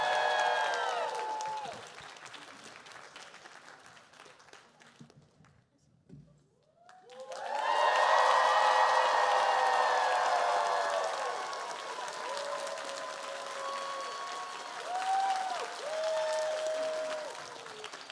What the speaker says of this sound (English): Let's do one with them cheering.